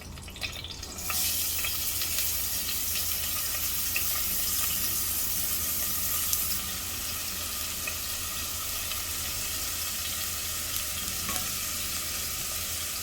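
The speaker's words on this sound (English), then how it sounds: "Now I'm going to add in these onions" Onions hiss and crackle steadily in a hot pan for a Hyderabadi vegetable dalcha, a dense, even sizzle that stays close and loud throughout with no talking.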